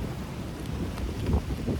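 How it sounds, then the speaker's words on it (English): Steady wind buffeting a microphone, a low rumbling roar with gusts swelling and fading throughout, no voices. "It is windy as fuck today."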